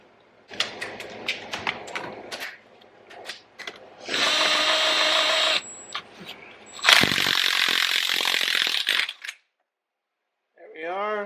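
A flywheel puller works on a 1992 Yamaha YZ 250 flywheel, with bursts of ratcheting and power-tool whirring between sharp metallic clicks and knocks, close and loud, separated by quiet gaps.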